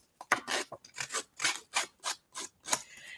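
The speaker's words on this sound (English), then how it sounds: "I'm taking the blade of my scissors and just going along the edges like that" A scissors blade scrapes along paper edges to distress them, a series of about nine close, crisp rasping strokes in a steady rhythm with brief gaps between.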